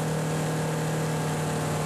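Flight Design CTLS light aircraft engine at reduced power, a steady droning hum with a constant low tone, close and continuous throughout, no voices.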